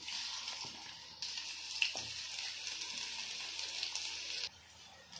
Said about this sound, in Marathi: इथे कांदा परतायला टाकलेला आहे